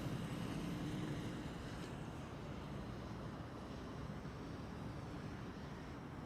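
A KLM Boeing 737-700 departs Amsterdam Schiphol's Kaagbaan runway 24, a steady broadband jet roar at moderate distance that holds evenly with a slight easing toward the end.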